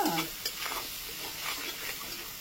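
Spices hiss and sizzle as they are stir-fried with a splash of water for dhaba-style kabuli chickpeas, a short burst of steamy frying with a few stirring scrapes.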